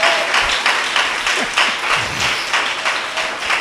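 Applause from a church congregation at a Sunday service, a steady broadband patter of many hands with some low thumps, continuous and fairly close throughout.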